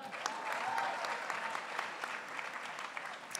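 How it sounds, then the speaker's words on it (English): Applause from a convocation audience for graduating students, a continuous even wash of many hands clapping, moderately loud and steady throughout, with no voices on top. "let's give a big round of applause to congratulate all the students graduating magna cum laude"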